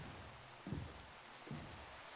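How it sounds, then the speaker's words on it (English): Rain beginning to fall in a farming video game, a steady soft hiss of falling drops with two brief low thumps, quiet and with no talk. "of course it starts raining"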